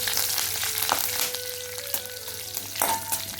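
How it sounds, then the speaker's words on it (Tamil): Whole cloves and cardamom pods frying in oil for a Sinhala-style curry, a steady close sizzle with crackles and occasional pops as the spices are stirred. "இப்போ ஏலக்காயெல்லாம் நல்லா வடிக்க தொடங்கிட்டுது"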